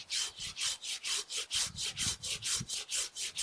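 A Samurai GKC-300-LH Japanese garden pruning saw cuts through a 7 cm thick willow branch, producing loud, close rhythmic rasping strokes, about fourteen back-and-forth pulls at a steady brisk pace.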